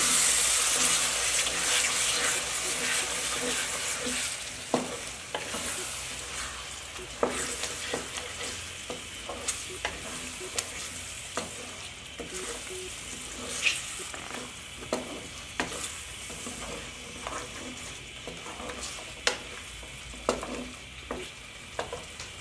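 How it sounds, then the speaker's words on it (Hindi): Tomato puree is stirred into mutton karahi sizzling in a pan, with a steady loud frying hiss and intermittent clicks and scrapes of a spoon close by. "इसको हम अच्छे से मिक्स कर लेंगे।"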